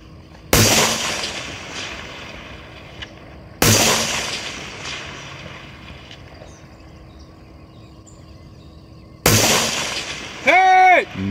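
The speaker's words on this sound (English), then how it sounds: "that was a nice long range shooting" Three loud, sharp rifle gunshots at a long-range shooting session, each followed by a long decaying echo across the open range, spaced several seconds apart, with a brief voice calling out near the end.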